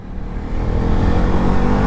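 A 2025 KTM Duke 250 motorcycle with a quickshifter accelerates, its engine building into a loud, close, broadband roar that grows steadily with no pauses and no speech.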